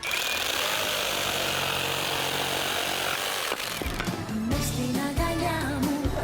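A jigsaw buzzes steadily, then cuts with a harsher rattling whine that rises and falls in short strokes, loud and close.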